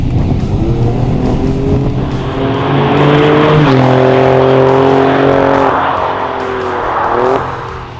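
A 2017 Alfa Romeo Giulia Quadrifoglio engine roars and climbs through the revs, shifting gears with rising and dropping pitch, close and aggressive throughout.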